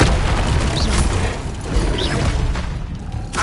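Spell cast in Hogwarts Legacy, the disarming charm: a dense, booming magical burst with rumbling low end and crackling mechanical textures, loud and continuous for a few seconds.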